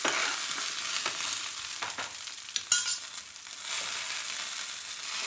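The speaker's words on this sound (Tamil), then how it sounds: "சாம்பார் வெங்காயம், வெங்காயம் நல்லா வதங்கட்டும்." Shallots and onions sauté in a pan, giving a steady close sizzle with soft stirring scrapes and one brief louder clatter midway, no voices.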